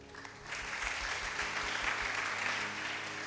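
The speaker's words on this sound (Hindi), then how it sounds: "ओके, इनके लिए ताली बजा दो।" Church congregation clapping together for a person during a Hindi sermon, a steady burst of applause that starts after a brief pause and holds for about three seconds.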